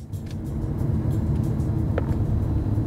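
A police car drives northbound on Main Street at night, a steady low engine rumble and road noise from inside the cabin with a faint click partway through.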